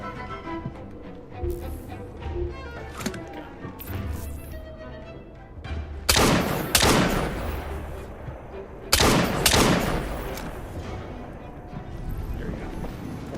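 Gunfire in Assassin's Creed Syndicate: scattered shots over a busy background, then two loud, sharp bursts around six and nine seconds that ring out before fading.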